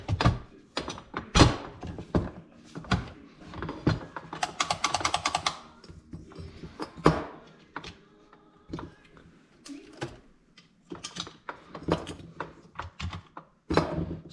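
Phillips head screws are driven into a grinder handle by hand, giving soft, irregular clicks and ratcheting taps close by, with brief rattling as parts are handled and quiet gaps in between.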